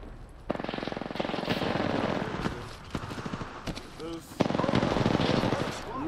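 Rapid bursts of automatic gunfire in an Apex Legends ranked match, with dense repeated shots running through most of the stretch, broken by a short lull, while players talk over the fighting.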